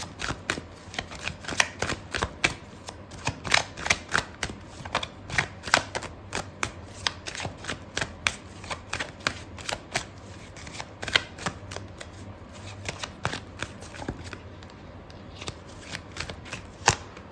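Tarot cards shuffled close up during a reading: a long run of quick, crisp riffling bursts in an uneven rhythm, fairly quiet and with no talk over them.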